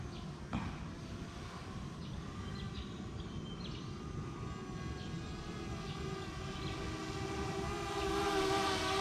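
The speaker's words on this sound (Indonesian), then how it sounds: "Yuk kita langsung nyobain drone kayak biasa." An MJX Bugs 7 drone hums in flight with a steady whirring buzz of its propellers, fairly distant and faint, rising slightly louder toward the end as it draws closer.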